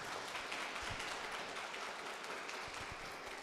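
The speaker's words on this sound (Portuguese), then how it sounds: "Vamos aplaudir o Senhor," A church congregation applauds during a Sunday service, a faint, distant wash of continuous clapping with a few louder low thumps scattered through it.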